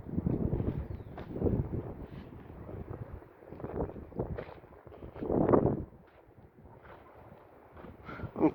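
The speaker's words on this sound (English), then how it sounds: "That wind blew hard today, man." Strong outdoor wind buffets the microphone in uneven gusts, rumbling loudly in surges and easing off between them, close and rough with no clear speech.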